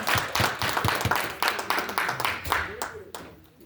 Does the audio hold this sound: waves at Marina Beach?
no